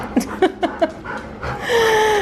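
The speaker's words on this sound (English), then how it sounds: "Just got home, being greeted by some excited puppies." Excited puppies greet someone arriving home with a run of short yips and whimpers, then a thin, high, drawn-out whine, fairly close and with no talk over them.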